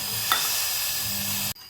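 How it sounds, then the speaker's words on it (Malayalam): Jaggery and water in a pan on the stove give off a steady, close hiss and sizzle while being stirred, with a faint scrape early on before the sound cuts off abruptly. "കുറച്ച് ശർക്കര എടുത്തിട്ട് നമുക്ക് കുറച്ച് വെള്ളം ഒഴിച്ചിട്ട് ഉരുക്കാനായിട്ട് വയ്ക്കാം"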